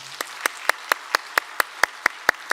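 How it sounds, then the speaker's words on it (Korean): A church congregation at a Wednesday service claps for the choir: about a dozen sharp, evenly spaced claps in a steady unison rhythm, clear and fairly close, with no talking over them. "우리 수요 찬양대 박수 한번 하겠습니다"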